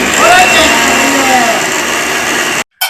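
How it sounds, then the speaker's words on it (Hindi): A kitchen mixer grinder runs loud and close with a steady whirring drone, then cuts out abruptly near the end before a brief restart. "मेरी मिक्सी को क्या हो गया?"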